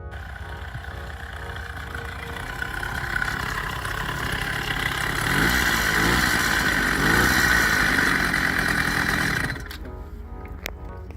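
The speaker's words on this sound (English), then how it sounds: "The following video shows one of our first startups. Notice the sound the engine makes." A small motorized bicycle engine on an early, untuned startup runs with a buzzy, rattling drone, revving higher in the middle before cutting off abruptly near the end.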